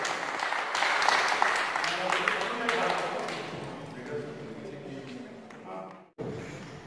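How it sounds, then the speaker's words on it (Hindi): Audience applause welcoming a performer at an Agrasen Jayanti 2017 couple competition in Barpali, fairly dense clapping over the first few seconds that thins out, with voices mixed in and a brief cut near the end. "तालियों से स्वागत हो।"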